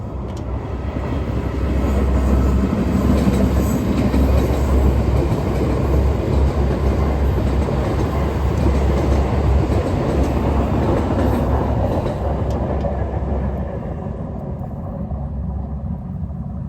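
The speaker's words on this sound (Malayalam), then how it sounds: "നാലരയുടെ ട്രെയിൻ പോയിന്നാ." A train, the 4:30 service, rumbles past on a sunny day: a loud, sustained roar with steady rolling clatter for about twelve seconds, then fading away into quiet.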